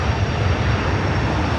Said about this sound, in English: Alaska 737.